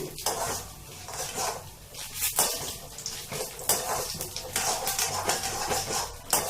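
Coriander seeds with Kashmiri and ordinary dried red chillies roast in hot oil in a pan, giving irregular crackling and sizzling mixed with scraping, clattering stirs.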